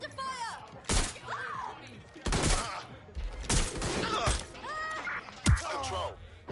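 Bursts of gunfire and impact thuds in the video game Watch Dogs, several loud shots spread across the clip over game ambience, with voices talking.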